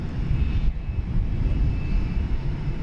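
A Qantas airliner arriving at DFW International Airport, heard as a steady, broad jet roar that holds loud and even throughout, with no voices present.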